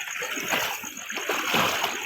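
Water splashing and sloshing in a farm field at night after very heavy rain, with choppy, close splashes rising and falling over a couple of seconds.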